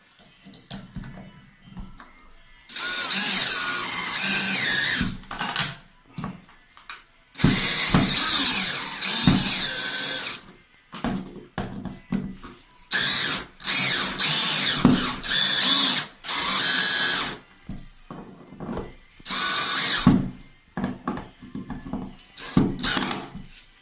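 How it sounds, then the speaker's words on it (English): A power drill drives self-tapping screws into hardwood while fixing a broken towel rail, in loud, close, whirring bursts of a second or two separated by short pauses and small clicks. "we're just gonna drive them in now"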